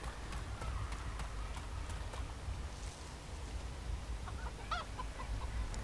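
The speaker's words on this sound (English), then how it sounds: "I hear a chicken." A chicken clucks faintly in a few quick bursts amid steady noisy background, with clip-clopping footsteps earlier, in the video game DayZ.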